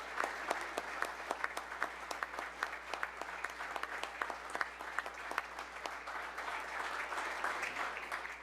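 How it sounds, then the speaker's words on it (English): A city commission meeting chamber fills with a sustained round of applause for the Trojans, the state champion team from Tallahassee's public school, with crisp, closely spaced claps at a moderate distance and only faint voices beneath. "Will y'all give these folks a round of applause?"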